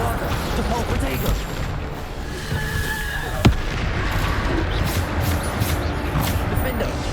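A Bombarda spell in the video game Hogwarts Legacy goes off with one sharp, loud blast near the middle. A continuous wash of battle noise and effects surrounds it.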